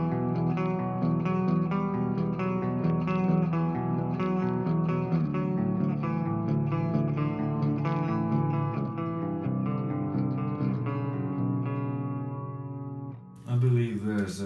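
Clean electric guitar tone from a VH4 amp in the STL Tones Tonality plugin, with reverb and delay, playing a sustained melodic chord passage that rings out near the end before a short burst of other sound.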